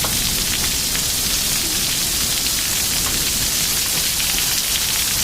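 Quarter-size hail pours down in a derecho storm with high winds near St. Louis, a dense, loud, unbroken hiss of impacts with no pauses.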